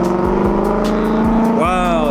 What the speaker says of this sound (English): I've never gotten to hear the car from outside.